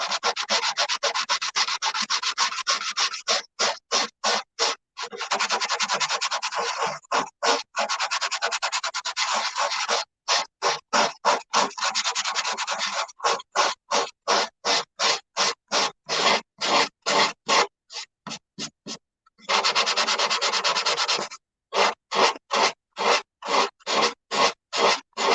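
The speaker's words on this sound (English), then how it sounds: "Normally I don't sand a lot with my fingertips, but in this case it works out perfect." Fingertip sanding on a wood carving gives a long, close run of rasping rubs, sometimes continuous and sometimes broken into quick rhythmic back-and-forth strokes with short pauses, loud and alone without talk.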